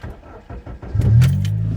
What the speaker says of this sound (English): This exhaust, single exit, no drone on the highway.